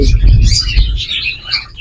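Bright, rapid chirps from a group of parakeets, loud and close, over a low background rumble.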